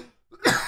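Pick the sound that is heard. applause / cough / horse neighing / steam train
cough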